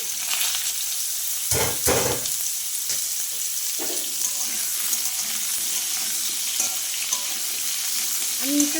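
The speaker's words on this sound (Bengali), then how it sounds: "আলুটা একটু ভালো করে ভেজে নিই দেখো আলুটাতে একটু ভেজে নিলাম" Potatoes and young jackfruit frying in a pan for a prawn dish, a steady hissing sizzle up close with a burst of stirring knocks early on and scattered spatula scrapes.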